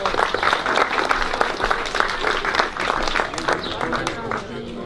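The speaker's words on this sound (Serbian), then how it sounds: "Molim vas još jedan aplauz za naše vitezove." Audience applauding the knights at a SVEBOR medieval performance in Leskovac, sustained dense clapping from a large crowd lasting several seconds.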